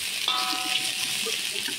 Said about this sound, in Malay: Goreng, kacau sampai dia masak.